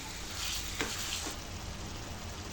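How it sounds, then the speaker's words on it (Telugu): Egg and tomato curry bubbles and sizzles in a pan, a steady close hiss with a couple of soft stirring scrapes, no voices. "ఇప్పుడు దీన్ని బాగా కలిపేసుకొని ఒక 3 to 5 minutes అలా ఉడికించుకోవాలండి"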